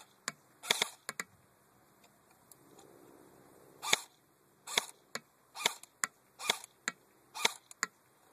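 A JG M4 airsoft rifle fires single semi-automatic shots outdoors, about a dozen sharp cracks spaced irregularly over quiet background, some in quick pairs.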